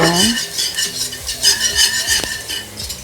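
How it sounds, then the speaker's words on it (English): A whisk working all-purpose flour into a soup pot for chicken gnocchi soup, rapid metallic scraping and tapping against the pot in uneven bursts, close, with no talking. "Now here we want to go ahead and whisk in a 1/4 cup of all-purpose flour"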